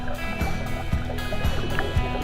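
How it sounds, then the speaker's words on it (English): Water rushes steadily around a snorkeler in a Thai stream, a close, continuous churning with periodic low thumps and sloshes from movement in the current. "the force of the water rushing past me was intense"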